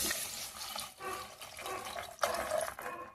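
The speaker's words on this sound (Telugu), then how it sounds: "ఇప్పుడు నీళ్ళు పోయాలి." Water splashes and gurgles steadily into a cooking pan of fried onions and tomatoes, a continuous pouring rush lasting the whole clip, close by with no talking.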